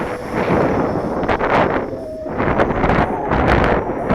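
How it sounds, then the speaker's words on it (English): Steady wind buffets the microphone at an outdoor RC plane flying field, a continuous loud broadband rush that swells and gusts throughout, with no talking. "Now my wind's picking up. You can probably hear that, huh?"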